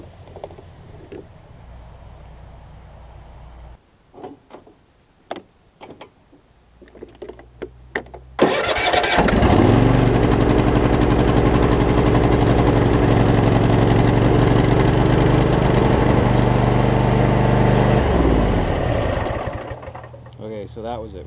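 A Husqvarna Z248F zero-turn mower engine catches abruptly after several quiet clicks and handling noises, then runs loud and close at a steady idle for about eleven seconds before tapering off near the end, with faint voices early on.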